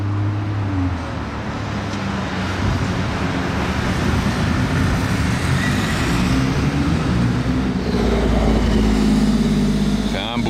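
A Porsche sports car engine rumbles steadily and loudly nearby, a continuous low drone with a deeper surge near the end, while people talk over it.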